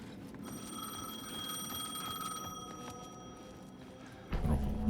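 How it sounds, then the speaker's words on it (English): A payphone in the Alan Wake 2 video game rings with a steady, continuous electronic trill over a low ambient game bed, ending in a sudden louder rumble near the close. "The payphone was ringing."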